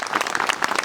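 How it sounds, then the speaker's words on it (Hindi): A church congregation claps loudly for Jesus Christ, a brisk, dense burst of many hands clapping close by with no voices over it. "सब ताली बजाएंगे जोर से यीशु मसीह के लिए"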